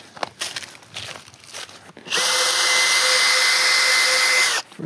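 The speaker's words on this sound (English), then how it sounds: "First, drill a little hole." A power drill bores a small hole while a deer fence is put up outdoors, running in one steady, loud whir of roughly two and a half seconds after some quieter handling noise.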